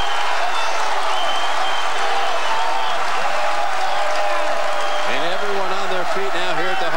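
A packed overflow crowd of about 3,500 at a men's college basketball championship game in the Hart Center arena, a loud continuous roar and applause filling the space while an announcer talks over it.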